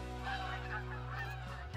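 Geese honk as they fly in toward hunters, several loud nasal calls overlapping close by in a continuous chorus that fades at the very end.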